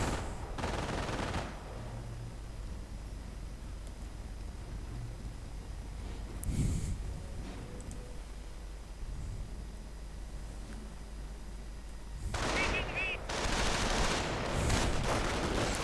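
Machine-gun fire from an MG42 in a two-player World War II strategy game battle, with sporadic bursts over low rumbling background noise; a louder burst arrives near the end.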